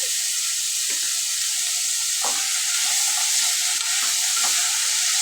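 Cashews fry in a pan of hot oil with a steady, bright sizzle, broken by a few soft clicks and scrapes of stirring; no one speaks over it.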